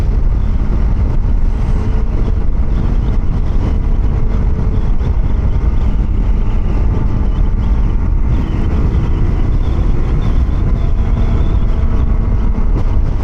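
Kawasaki Versys X 300 motorcycle cruising in sixth gear just under 7,000 RPM, a loud steady engine drone mixed with heavy wind rush, constant throughout with no talk.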